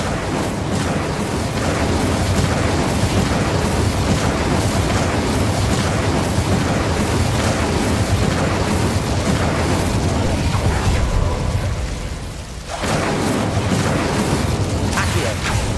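Repeated fiery spell blasts from combat in the Hogwarts Legacy video game, a dense, loud barrage of booming bursts with crackling overlaid by voices and game noise, briefly dropping away near the end before resuming.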